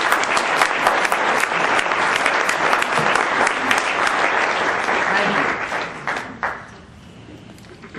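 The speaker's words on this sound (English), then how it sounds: "Please join me in applauding this fine program." A conference audience gives a program dense, loud applause of many hands clapping for about six seconds before it quickly tapers off into near quiet.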